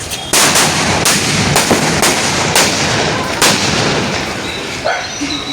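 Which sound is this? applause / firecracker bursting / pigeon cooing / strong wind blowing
firecracker bursting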